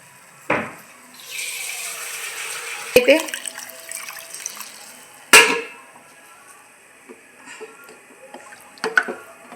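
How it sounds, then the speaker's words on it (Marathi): Water splashes and pours into a pot in a couple of bursts, with wet sloshing, drips and metallic knocks in between. "मस्त असं भरपूर असं पाणी ओतून घ्यायचं आहे आपल्याला त्यात"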